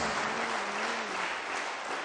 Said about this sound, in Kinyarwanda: tuzamure ibiganza byacu dukomere Imana amashyi mu izina rya Yesu